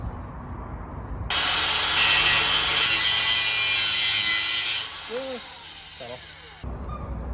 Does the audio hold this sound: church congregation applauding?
no